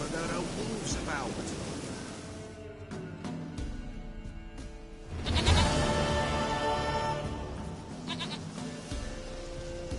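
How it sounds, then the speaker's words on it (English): Goat bleats from The Witcher game, repeated cries over music and ambient game sounds, with a voice speaking at times. "Goat of mine, dearest,"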